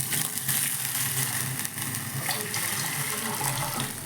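Water runs from a kitchen tap to fill a pot for cooking dal, a steady splashing gush heard up close without pause.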